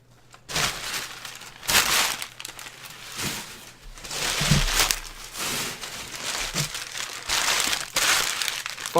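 Packing paper crumpled and crinkled inside the shipping box of an ASUS GTX 970 Strix graphics card, close and fairly loud, in repeated bursts of rustling crunching with brief pauses between handfuls.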